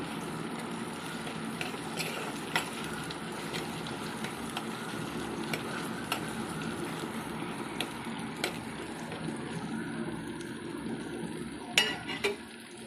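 Green chillies are stirred in a pan for a Kottiyam-style fish curry, with soft scraping, light clinks of the spoon against the pan and a low background hum, quiet and continuous.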